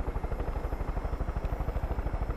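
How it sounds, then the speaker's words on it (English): A helicopter in the video game Far Cry 5: its rotor thumps in a fast, steady rhythm with a constant engine drone, sounding fairly close throughout. "Okay, no, the helicopter's going away."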